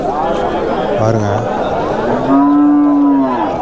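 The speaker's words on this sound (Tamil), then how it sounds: "எவ்வளோ அழகாக பசுமாடு கொண்டு வந்திருக்காங்க பாருங்க" Cows moo at a busy cattle market, two distinct low moos close by over background crowd chatter and talking.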